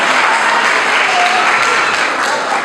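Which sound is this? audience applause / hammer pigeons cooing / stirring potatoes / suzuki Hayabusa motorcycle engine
audience applause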